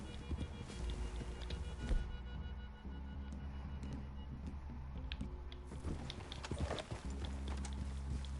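Horse hooves clip-clopping in Red Dead Redemption 2, a faint uneven patter of steps over soft ground with light game ambience, distant and low in level.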